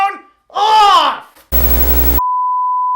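A phone in a talk-show studio lets out a loud, steady electronic beep tone that holds for about a second and a half, following a burst of voices and laughter.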